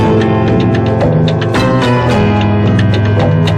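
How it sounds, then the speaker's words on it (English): Experimental single mixing tape loops, electronic sounds and live instruments: a loud, dense, continuous wash with rapid repeating percussive pulses and sustained tones, no speech over it. "an experimental single which featured a combination of tape loops,"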